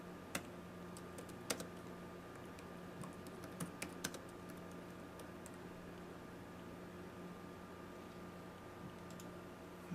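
Someone types on a computer keyboard in a steady patter of quiet key clicks, with a few louder sharp taps standing out over a faint background hum.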